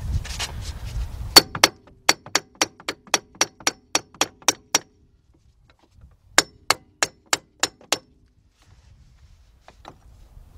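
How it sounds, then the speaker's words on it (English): A hammer strikes the front right wheel bearing hub assembly on a 2008 Audi A6 Quattro 3.2 with sharp metallic clangs in two steady runs of about ten blows each, close and loud. "I might have to get a bigger hammer."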